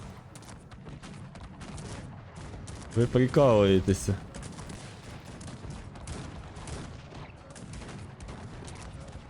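Rapid bursts of gunfire from the strategy game Cossacks 3 crackle throughout, with a voice briefly speaking and laughing over the shooting in the middle.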